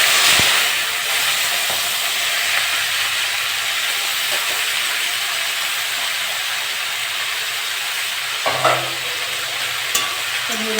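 Vegetables fry in hot oil with cumin and dry chillies, a loud, dense, continuous hiss and sizzle throughout, with a couple of brief clatters near the end.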